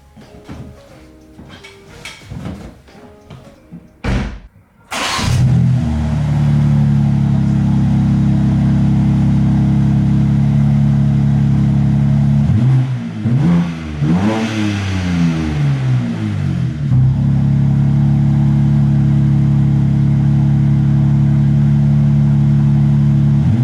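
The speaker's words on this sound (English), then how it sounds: "We'll throw in some clips of exhaust that I've done in the past" A few short engine blips, then a car engine revs up loudly and holds a deep droning exhaust note, dipping and rising again before settling.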